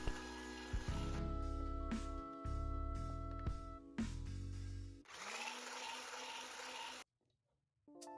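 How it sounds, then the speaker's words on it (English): An electric hand mixer whirs steadily up close as it folds whipped cream into cream cheese for a cake frosting. The motor drones with a few pitch shifts, turns to a rougher, louder churning, then cuts out near the end. "Add your whipped cream in 3 parts to the cream cheese, and then carefully mix with your hand mixer."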